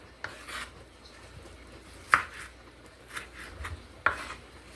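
Leftover food is torn and broken up by hand on a cutting board, giving several close, rough rasping and rubbing bursts with a few sharper scrapes against the board between quieter pauses, with no talking.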